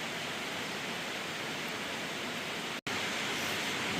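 A steady, close hiss of water spraying over a trailer during a wash, with an even rushing texture and a momentary cutout partway through.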